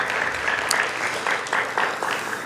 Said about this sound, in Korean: 그분들에게 한번 박수 한번 쳐주셨으면 고맙습니다